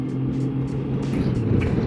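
A motorcycle engine hums at a steady drone with road and wind rumble while riding from Fairbanks toward Denali National Park in Alaska, a continuous close roar.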